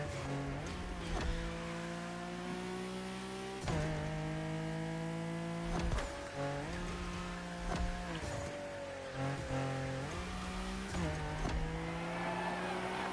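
Nissan Skyline racing in The Crew Motorfest, its engine revving hard through repeated upshifts with rising pitch and brief drops between gears, loud and close, with some tire noise.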